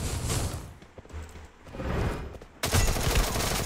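Tommy gun fire in the Free Fire video game, heard as rapid bursts of automatic shots with dull booms and whooshes, loudest in a dense final burst.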